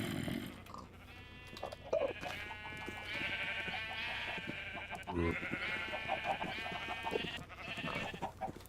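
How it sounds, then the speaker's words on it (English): Sheep in the Minecraft video game bleat several times in wavering, nasal calls, some overlapping, over a quiet background. "That's just the sheep above me."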